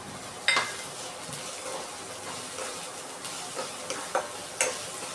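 Potatoes fry and sizzle in a pan for sabudana khichdi, a soft steady hiss with faint stirring scrapes and a few light clinks, quiet and close.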